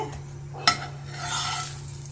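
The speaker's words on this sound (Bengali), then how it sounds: "এবার পরোটাগুলো এক এক করে ভেজে নেওয়া হচ্ছে" Sattu-stuffed parathas fry one by one on a pan, a close steady sizzle with a single sharp utensil clink near the start and a soft swell of frying afterward.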